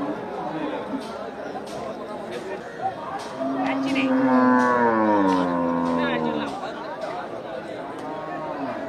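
A milk cow lets out one long, loud, drawn-out moo that rises and falls. People chat nearby before and around it.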